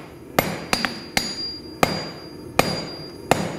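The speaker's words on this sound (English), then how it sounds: "Work on the near edge of the anvil with the flat side of the hammer half on, half off." A hammer strikes hot steel worked over the near edge of an anvil, about seven sharp ringing blows at uneven intervals, close and loud with no talk.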